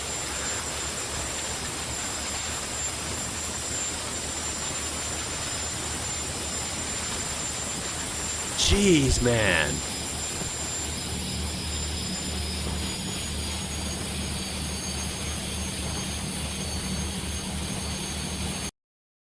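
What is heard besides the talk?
loud European turbo diesel engine turbo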